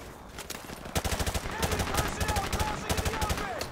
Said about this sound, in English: it looks like we're going an all-out gunfight